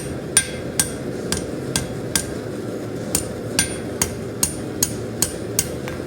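Blacksmith hammering a tapered tip against an anvil, striking about a dozen sharp, ringing metallic blows at a steady, even pace, close and loud over a low hum of shop background, with no talking.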